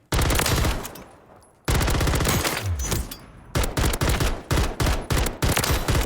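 Ram 9 SMG fire in the video game Warzone 3: long loud automatic bursts, a brief pause, then a sustained burst and a run of short rapid bursts, all close and dominant.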